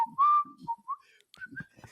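A person whistles a catchy tune in short melodic phrases, clear and close, with brief gaps and a few quiet background sounds between notes.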